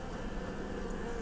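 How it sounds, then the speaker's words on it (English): Honeybees swarm and buzz steadily over open beehive frames, a dense, continuous hum close by with no talking. "Bees are good and active."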